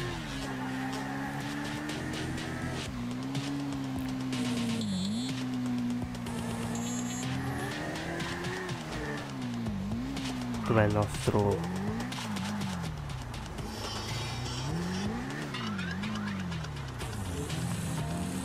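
In the video game Grand Theft Auto V, a motorbike engine revs and whines, its pitch rising and falling as it accelerates and wheelies, with someone talking over it and a brief tire screech.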